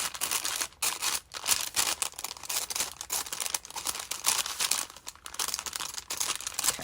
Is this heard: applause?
no